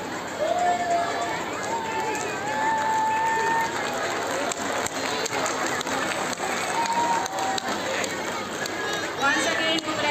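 Sarojini House schoolchildren cheering for their house at a school sports event, a sustained crowd roar with shouts and whistles rising and falling, while a voice talks over the noise.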